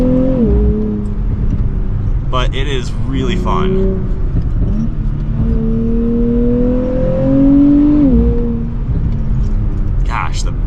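A 2024 Nissan Z Nismo accelerates with a rising, droning engine note and bursts of crackling fake exhaust pops played through the cabin speakers, while someone talks over it.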